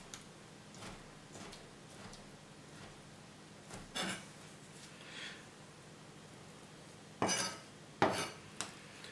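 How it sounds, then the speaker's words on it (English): A knife slices through a stack of soft cooked, cooled orange peels on a cutting board, making faint scattered taps with a few sharper knocks near the end, all quiet and close. "now we want to take our cooked and cooled orange peels, and we just want to stack some up and just slice them into strips"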